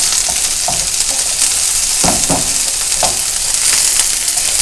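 Okra sizzles loudly in a hot pan as moisture cooks off for a low-carb gumbo, a dense constant frying hiss close to the mic with a few stirring scrapes.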